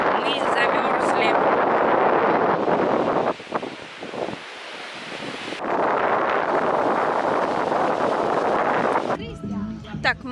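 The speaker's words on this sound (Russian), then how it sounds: "Здесь сегодня такой ветер на море, что мы замерзли." Strong wind off the sea in Italy roars and buffets the microphone almost continuously, with a surf-like rush that briefly eases midway before surging again, then ends abruptly.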